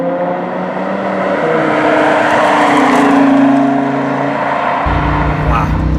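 A Lamborghini Huracan's engine climbs steadily in pitch while driving at low speed, then its dual-clutch gearbox snaps through a near-instant shift that drops the revs abruptly near the end.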